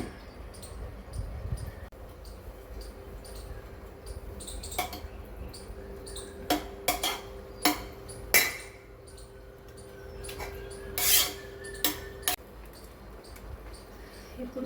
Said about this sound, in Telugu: ఇప్పుడు ఈ రైస్ మొత్తం ఇందులో వేసుకోవాలి